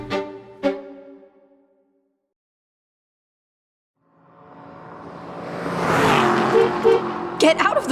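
A car approaches along a road in an old film scene, its engine rising from silence to a loud, close roar and then braking to a halt, with a short voice heard before it.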